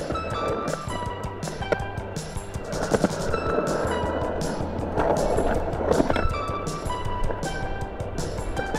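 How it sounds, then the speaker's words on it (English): Skateboard wheels roll and clatter around a skate park with banks, bowls and a pump track, with repeated clacks and bumps over continuous wheel roar, close by, while voices murmur faintly in the background. "Just doing a little skate around the park."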